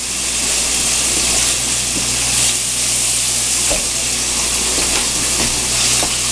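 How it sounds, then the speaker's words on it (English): Shrimp and fresh green beans cook in a hot pan over a flame, giving a loud, continuous close-up sizzle with occasional soft pops and stirring clinks, and no one speaking. "listen to that sizzle"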